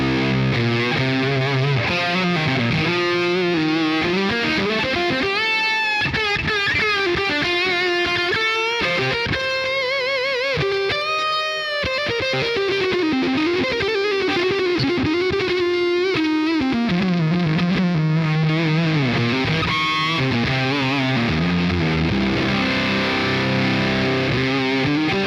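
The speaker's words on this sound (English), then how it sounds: "Fuzz tones, let's do fuzz tone down" Heavily distorted electric guitar through a fuzz effect in the Archetype: Rabea X amp plugin, with a thick fuzz tone, playing loud sustained notes and bends continuously without vocals.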